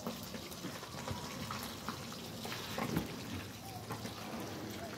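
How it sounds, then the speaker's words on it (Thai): Fermented fish sauce (pla ra) poured from a bottle into a dish for a Lao-Thai koi shellfish salad, a thin watery trickle buried in steady kitchen background noise. "น้ำปลาแดกใส่น้อยหนึ่ง"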